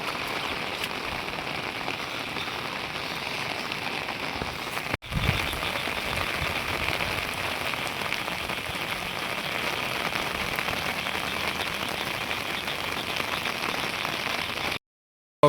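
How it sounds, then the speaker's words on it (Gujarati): Rain pours steadily outdoors near fields and a flooded temple, a constant dense hiss of drops on surfaces lasting throughout, with one brief dropout partway and a cut near the end, no talking. "વરસાદ હવાનો ચાલુ જ છે"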